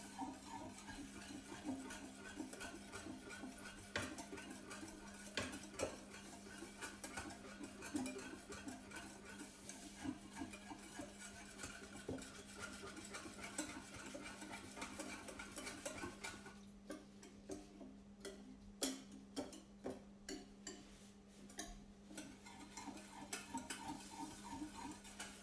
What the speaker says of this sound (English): slowly add the chia seeds to the bowl here while whisking